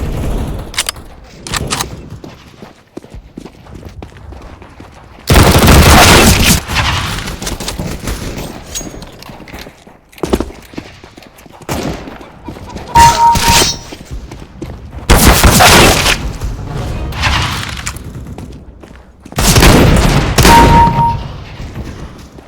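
Loud bursts of automatic gunfire in a Counter-Strike: Global Offensive match, several sustained volleys separated by quieter stretches with scattered single shots and thuds.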